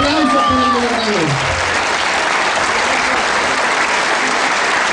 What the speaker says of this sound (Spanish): Un aplauso para Puebla, un aplauso para el gobernador.